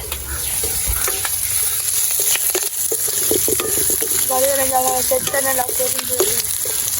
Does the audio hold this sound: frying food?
yes